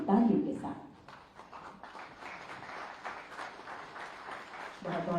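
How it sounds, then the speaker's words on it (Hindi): Audience applause at an investors' meet for a mega textile and apparel park on the Lucknow–Hardoi border, during a memento presentation. Steady clapping fills the middle, with a voice speaking at the start and end. "आपकी लगातार सम्मान भरी तालियों के साथ।"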